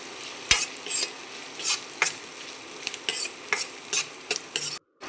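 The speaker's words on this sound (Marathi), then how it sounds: "आणि आता हिरवी मिरची पण तेलामध्ये चांगली परतून घ्यायची आपल्याला." Green chillies sizzle in hot oil while a spoon stirs them, giving repeated scraping strokes against the pan over a steady close frying hiss.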